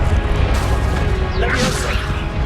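Confringo fire spell cast in Hogwarts Legacy, a fiery whooshing burst with a rising swish and crackle over a dense, constant game soundscape, close and loud throughout.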